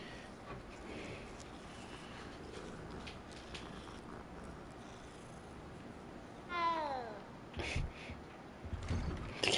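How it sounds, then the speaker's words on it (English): A cat in the video game Hogwarts Legacy lets out a single short, rising meow past the midpoint, clear above a low, hissing ambient game background with a few soft knocks toward the end. "The cat's meow is just so funny to me."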